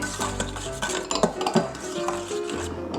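A spoon clinks and scrapes steadily around a bowl as yeast is stirred and mixed for pan de sal dough, close up with no talking.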